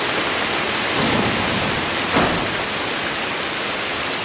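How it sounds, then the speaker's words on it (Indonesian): Steady rain pours down in an unbroken, dense hiss with no voices, swelling briefly in the middle before settling back to an even wash. "saat itu sedang hujan"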